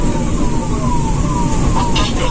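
A 108 emergency ambulance siren from the Uttar Pradesh government service wails loudly and continuously nearby, its pitch sweeping steadily, with faint traffic noise underneath.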